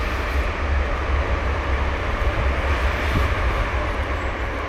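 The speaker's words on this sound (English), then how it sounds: "And another train." A train rolls past during a countryside walk near Lelystad and Almere in the Netherlands, a steady broadband rumble holding loud and even across the whole stretch with no talk over it.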